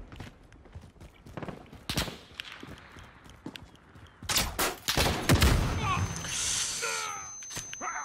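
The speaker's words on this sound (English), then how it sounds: "Oh, I shot him." Bursts of video game gunfire crack out in sharp volleys, with scattered single shots early on and a dense, loud fusillade in the middle, under a player's excited speech.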